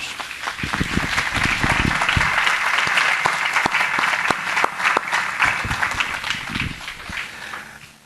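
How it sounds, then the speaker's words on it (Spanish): A church congregation applauds in praise, dense steady clapping that fills the room for the whole stretch with a few louder claps standing out near the front. "Dale un aplauso al Señor."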